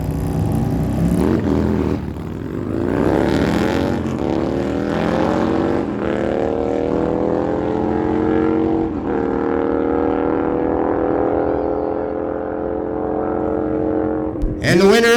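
A 2009 Harley-Davidson Softail with a 117 cubic inch engine races down a dragway in a girls-class final, engine roaring and revving up through the gears, loud and sustained, with an announcer's voice over the noise.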